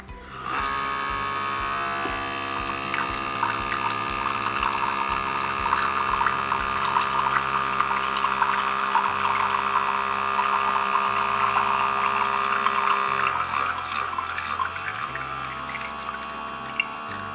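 A portable Outin Nano electric espresso machine whirs with a steady motorized hum, faint watery gurgling over it, before the tone changes and stutters near the end.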